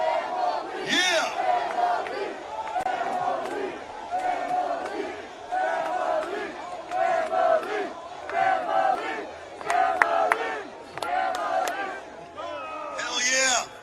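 A large crowd at the 2017 march on Washington, D.C. shouts and cheers continuously, a dense roar of many voices with rising whoops and yells throughout, close and loud.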